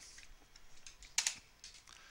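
Typing a search word on a computer keyboard: a short series of light key taps, one slightly louder cluster in the middle, close and quiet with no voices.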